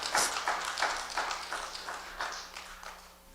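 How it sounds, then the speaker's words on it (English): Applause from a church audience at an annual general meeting, a burst of many hands clapping that is loud at first and then gradually fades, with no speech over it. "Let's give him a round of applause."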